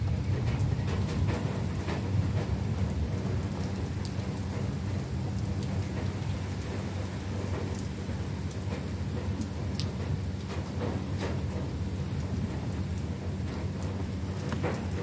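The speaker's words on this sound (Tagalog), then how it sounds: "Ang lakas ng ulan." Heavy rain pours steadily at Lung Mei Beach in Tai Po, a dense continuous roar with occasional sharp drops and low rumbles of thunder, with no voices heard.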